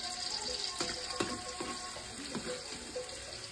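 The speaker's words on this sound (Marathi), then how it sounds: "ते आता लाल होईपर्यंत चांगलं परतायचा कांदा." Onions frying in a pan over a wood-fired stove, with a quiet steady sizzle and scattered soft stirring knocks and scrapes, close but faint.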